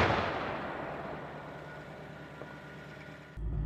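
An M109A7 Paladin 155mm howitzer blast decaying as a long rolling rumble outdoors, fading steadily over a few seconds before a brief low thump at the end, with no voices.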